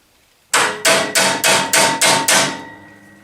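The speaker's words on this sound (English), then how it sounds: "I'm going to try to pop it with a hammer and a punch." A hammer drives a punch against a part on a 1972 Hahn Eclipse snow blower with a Tecumseh H60 engine, seven sharp metallic strikes in even rhythm, loud and close with ringing decay, no voices.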